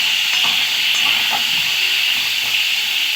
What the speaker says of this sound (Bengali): আলুগুলো এবারে লাল লাল করে ভেজে নেব ঢাকা চাপা দিয়ে।